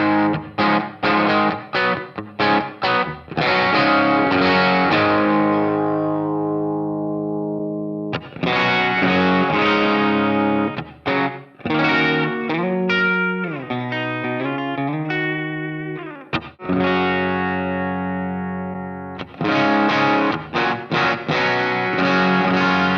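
A distorted electric guitar played through a G1230 cabinet impulse response captured with a 421 microphone, alternating chugging palm-muted riffs with long ringing sustained chords and bends, loud and close with no talking.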